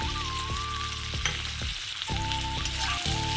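Ground cardamom, coriander and cumin frying with potato and capsicum in a pan, a steady loud sizzle with a few stirring clicks and no voices.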